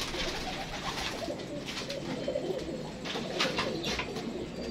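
Soft, repeated cooing of Teddy pigeons under a steady, noisy background hum, the calls blending into a continuous low murmur.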